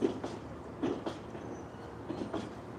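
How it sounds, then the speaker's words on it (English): A GO train stands at a signal beside King Street West in Toronto, giving a steady rail rumble with a few soft clanks and knocks, heard alone without talk. "So we got lucky, this train stopped for signal, and you can have a clear view of the train."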